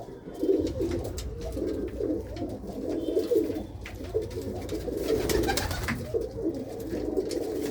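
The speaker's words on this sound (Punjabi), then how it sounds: "ਇਹ ਆਪਣੇ ਘਰ ਦੀ ਕਬੂਤਰੀ ਹੈ" A domestic hen pigeon in a home loft coos in repeated throaty, rolling phrases, close and fairly steady throughout, with other pigeons murmuring faintly around it.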